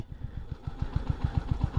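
A 350cc motorcycle engine chugs along at low speed in second gear with a steady, even thumping beat, close by and with no voices.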